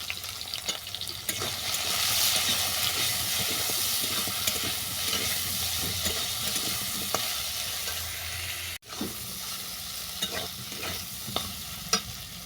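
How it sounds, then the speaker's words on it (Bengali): Okra frying in a pan with salt and turmeric gives off a loud, continuous sizzle. Spatula scrapes and stirring knocks come and go through it, and the sizzle dips sharply for a moment near the end before picking back up. "ঢ্যাঁড়স ভাজা হয়ে গেছে"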